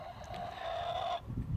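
A rooster in a backyard flock gives a single sustained, drawn-out crowing call that breaks off abruptly, followed by a few soft low clucks nearby.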